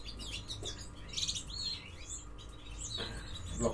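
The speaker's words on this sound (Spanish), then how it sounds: "son tres pájaros grises" Three small grey birds give a few faint, high chirps, scattered across a quiet stretch of background noise.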